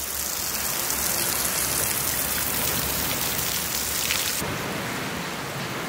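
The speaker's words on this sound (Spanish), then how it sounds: "Está lloviendo un poco" Light rain falls steadily along a levada trail near a beach and waterfalls, a close, even hiss of drops filling the whole stretch without any voices.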